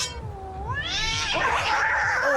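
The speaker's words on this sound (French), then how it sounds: "Cat fight." A drawn-out cat yowl from a Fortnite cat fight rises in pitch and breaks into a harsh, screeching caterwaul, loud and close, with no talking.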